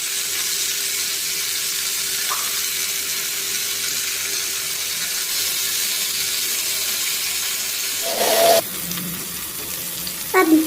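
Chicken shashlik skewers cooking in a pan, a constant close sizzle throughout, with a louder burst of hissing and clatter near the end as the skewers are turned.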